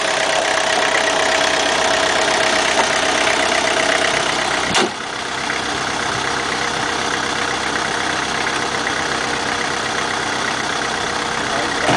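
Gary's car, running on vegetable oil, has a loud, steady engine drone heard close up, with a short dip around the middle before it carries on evenly.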